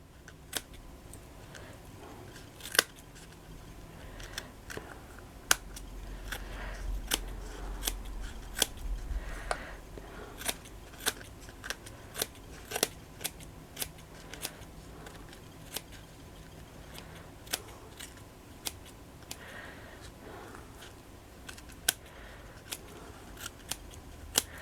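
Scissors snip away excess fabric or trim while making a shabby chic 16th century style crib, a run of sharp separate cuts and clicks spread steadily across the clip, close and fairly quiet with no talk.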